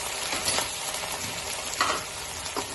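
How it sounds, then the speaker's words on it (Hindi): Potatoes frying with crushed garlic and ginger make a close, steady sizzle broken by a few stirring scrapes, with no one speaking. "अब इसमें हम डालेंगे आलू और आलू को इसी में ही फ्राई कर लेंगे"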